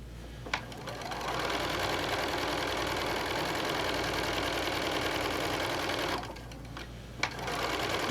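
Sewing machine stitching through a quilt at a quilt tack, a steady close whirring run of rapid stitches lasting several seconds, with short pauses and a light click at the start and near the end.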